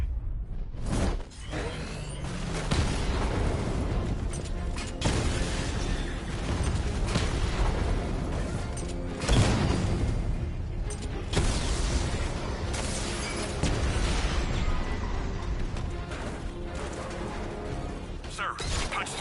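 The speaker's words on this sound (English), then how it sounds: "Your 60mm cannon will penetrate these heavily armored units, but it'll take a few direct hits to destroy them." A tank's 60mm cannon in a Batman video game fires amid explosions, with loud booms and heavy mechanical clanks over a dense, continuous battle roar and a faint voice underneath.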